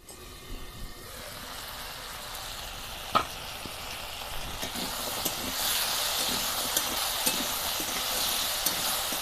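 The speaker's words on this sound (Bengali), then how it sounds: "ভেন্ডির মতো আলুগুলোকেও লাল লাল করে ভেজে নেব, যাতে আলুগুলো সেদ্ধ হয়ে যায়" Potatoes and okra fry together in a pan, with a steady sizzling hiss that swells louder partway through, broken by occasional utensil clinks and a lid knock near the start.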